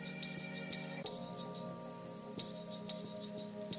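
Rain sample layered into a hip-hop beat mix, a steady wash of rainfall hiss sitting under sustained tonal instrumentation and periodic percussive hits, continuous and moderately loud throughout with no voices.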